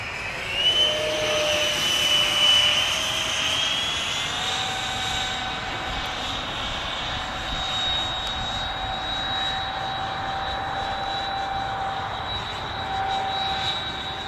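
An FF 117V2 electric ducted fan model jet flies by with a steady, high-pitched whine that rises and falls slightly over about fourteen seconds, heard from a distance with no talking.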